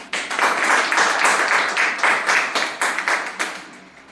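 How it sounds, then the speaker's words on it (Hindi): Audience applause at a Hindi-language business mentorship meeting, dense clapping from many hands lasting throughout, fairly loud and steady with sharper bursts near the end. "एक बार ताली चाहता है एक बार उसके लिए।"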